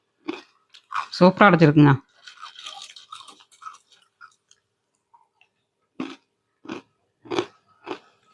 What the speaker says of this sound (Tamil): முறுக்க சாப்பிட்டு பார்க்கலாங்க டேஸ்ட் எப்படி இருக்குன்னு.